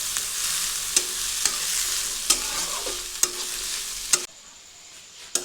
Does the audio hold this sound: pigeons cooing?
no